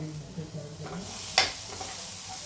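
Soaked gram flour batter is poured into a hot pan, starting with low stirring and then a sudden sharp sizzle burst that settles into a steady faint hiss.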